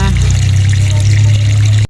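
An automatic washing machine drains its water in a loud, steady gush with a constant low hum underneath, running continuously before cutting off abruptly at the end.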